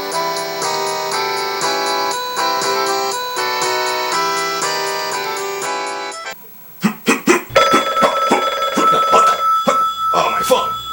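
A phone rings loudly with a repeating electronic ringtone melody for about six seconds, then stops, followed by people talking.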